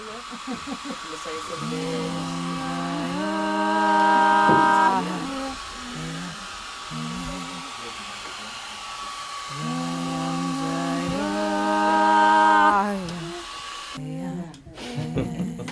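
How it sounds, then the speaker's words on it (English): A hair dryer blows with a steady whirring hiss, its pitch rising and falling twice as it's switched between speeds, close by. "In the case of Hildá, that implicates a hairdryer."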